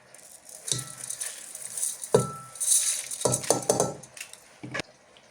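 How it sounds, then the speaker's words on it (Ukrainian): Washed rice grains rattle and patter into a metal cooker bowl in several pours, with clinking of cookware in between, close and fairly loud. "І засипаємо наш промитий рис."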